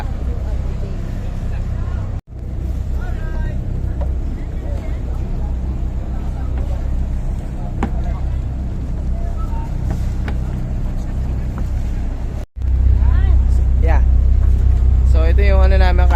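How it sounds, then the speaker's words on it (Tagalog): A motorized wooden passenger bangka boat carrying about 25 people at El Nido runs with a steady, loud low engine drone, briefly cut off twice, while people chatter and talk over it throughout. "Yung sasakyan namin bangka."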